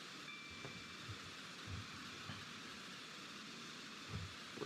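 Train running in the Roblox game Stepford Express at around 125 miles an hour, a quiet steady rumbling hiss with faint periodic low thumps from the rails, heard from inside the locomotive cab.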